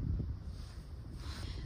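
Wind blows across the open ground of Taebaeksan mountain in winter, a steady low buffeting rush that roars against the microphone throughout, with no voices.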